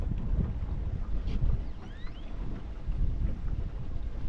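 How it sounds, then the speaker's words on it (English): Wind blowing steadily across the open water of the Lower Laguna Madre around a 1988 Shoalwater flats boat while drift fishing, a loud continuous rumbling rush with gusty swells and no talking. "The wind's picking up."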